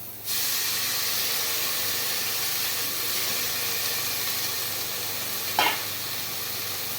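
Onions and moringa leaves sizzle in a pan, a steady broad hiss of frying that holds evenly throughout, with one brief louder crackle near the end.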